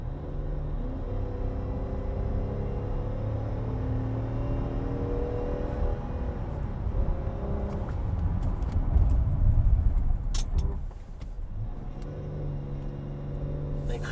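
A Chevrolet Traverse SUV drives along with a steady low road and engine rumble, the tire and wind noise swelling briefly midway before settling back to an even drone.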